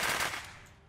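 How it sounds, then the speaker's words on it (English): An MPX submachine gun in a modded Unturned gun pack lets off a short, dense burst of automatic fire that fades out within a second, with no voices. "Here's an MPX."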